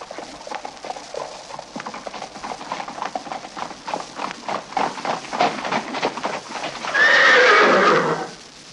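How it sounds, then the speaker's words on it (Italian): Horses gallop closer in a rapid clip-clop of hooves that builds in loudness, then a horse lets out a loud whinny near the end. "udì a un certo punto un gran galoppo di cavalli che si avvicinava"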